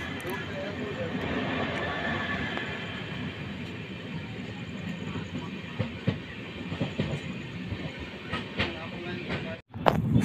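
Steady rumble and hiss of an express passenger train running on the tracks on the outskirts of Hubli, approaching Hubli Junction station, with faint clicks of the wheels over rail joints heard from inside the coach, continuous and moderately loud.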